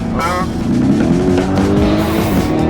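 A luxury car's engine revs loudly up close and strains as it pulls away, with a rising engine note and some tire noise, while people talk over it.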